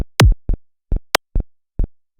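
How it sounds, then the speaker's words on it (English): Punchy UK hardcore electronic kick drum thumps repeat at an uneven pace, with a couple of sharp, bright clicks at the end of the kick's tail cutting through between them. "there is a clicking sound that you can probably hear at the end of the tail of the kick"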